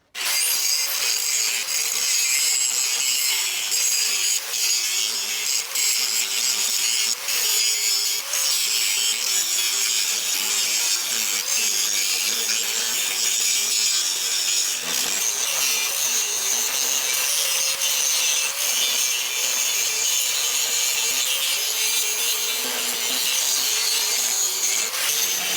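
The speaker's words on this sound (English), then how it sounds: "Let's get it ground down level with this plate." Angle grinder grinding down welded metal level with a steel plate while building a firewood bundler, a loud, steady, continuous abrasive whine running without a break.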